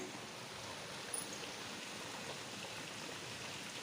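Heavy rain falls steadily, a continuous dense hiss of water with no breaks and no voices, at a fairly soft overall level.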